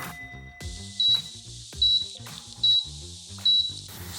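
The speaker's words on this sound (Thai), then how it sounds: "หากน้ำในถังใกล้หมดเครื่องจะส่งเสียงสัญญาณเตือนเป็นจังหวะ" Warning beeps from a Sharp hot-and-cold water dispenser signalling a nearly empty bottle: four sharp, high beeps in a steady rhythm over quiet background music.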